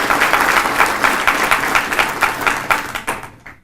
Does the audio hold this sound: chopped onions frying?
no